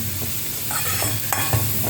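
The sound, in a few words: onions sautéing and stirred in a pan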